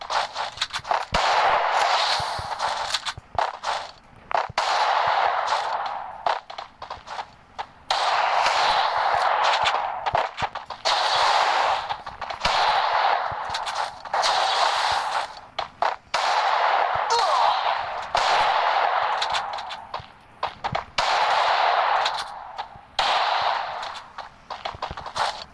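Gunfire in the Free Fire video game, with repeated bursts of shots separated by brief pauses across the whole stretch, loud and close.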